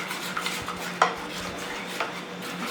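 A spoon stirs appam batter in a bowl after salt is added, with light scraping, a few sharp clinks against the rim, and steady mixing sounds that are close and moderately loud, with no talking.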